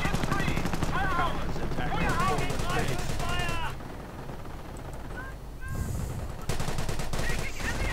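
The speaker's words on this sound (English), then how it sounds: "with that MG firing away" Machine gun fire in a World War II–style strategy video game, a rapid, repeating rattle of bursts that runs through most of the moment beneath a commentator's continuous talk, with a brief lull near the middle.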